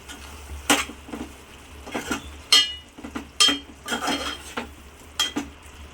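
A spoon stirs a drumstick and tomato curry in a pan, making repeated scraping and clinking strokes at an uneven rhythm over a faint sizzle, close by and with no talk.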